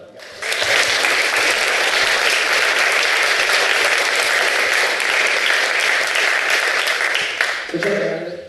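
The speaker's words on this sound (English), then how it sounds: "So let's have a round of applause for our panel." Sustained audience applause welcoming a panel at a climate talk in Frome, loud and steady for about seven seconds before fading, with a brief voice at the end.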